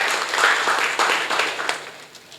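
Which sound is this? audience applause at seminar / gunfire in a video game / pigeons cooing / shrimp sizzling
audience applause at seminar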